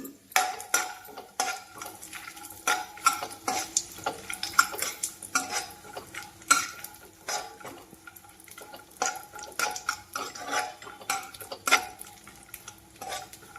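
Coconut pieces and almonds frying in a pan, a soft sizzle under repeated clinks and scrapes of a spoon against metal, close and rhythmic, with no talking.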